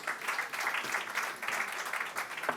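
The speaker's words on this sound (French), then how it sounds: "On vous applaudit aussi." Conference audience applauds guests joining the stage at a Randstad talk on meaning at work, a soft, continuous patter of clapping heard at a distance.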